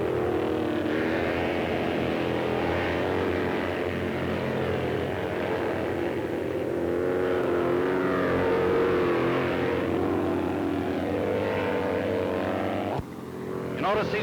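Motorcycles racing past a grandstand on a track at the 1953 Missouri State Fair, a loud sustained engine roar swelling and fading as bikes pass, old newsreel-style sound.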